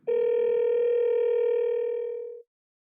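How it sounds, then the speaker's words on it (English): An iPhone calling a phone number gives a steady, clear dial tone that holds for about two seconds, fades slightly, then cuts off abruptly into silence. "tapping on a phone number calls that number"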